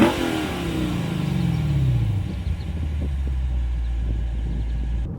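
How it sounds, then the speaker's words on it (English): A 2023 Lexus RC F Track Edition V8 fires up with a loud, close rumble, the pitch falling as the engine settles into a steady low idle with a light blip of revving, no talk. "I want you to experience what it sounds like when you start this thing up and you kind of rev it a little bit."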